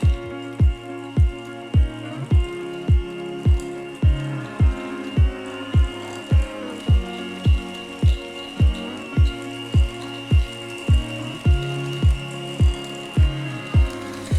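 Cake batter with eggs for a coconut pound cake is beaten in a bowl, giving a steady run of regular knocking thumps about twice a second, close and fairly loud, with no voices.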